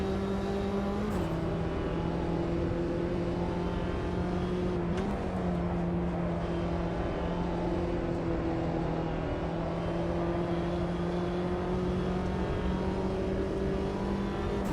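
A pack of about ten John Cooper Works Mini Challenge race cars in the sim racing game Automobilista 2 drones steadily at the Cordoba circuit, with engine pitch rising and dipping together as the cars run close through the corners.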